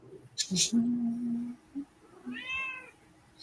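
A pet cat named Snickles gives a few short meows at close range, one drawn-out and one rising, with a voice talking in between and around them.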